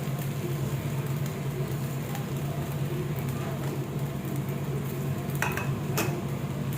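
Sabudana khichdi with peanut powder being stirred and sautéed in a pan: a steady low scraping and soft sizzle continues throughout, with a few light utensil clinks near the end.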